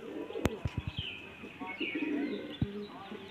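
A restless male Kotashi pigeon, an old-generation bird flapping in someone's grip, gives a soft, low cooing murmur between sharp handling thumps and a few clicks, close by.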